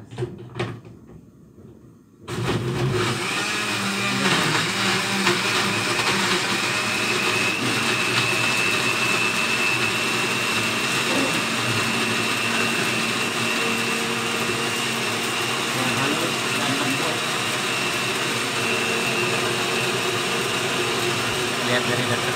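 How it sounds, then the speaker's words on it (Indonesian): Kitchen blender grinding coriander seeds and spices, switching on after a short pause with some handling knocks, then a loud, steady whirring grind that runs continuously. "Sekarang kita blender."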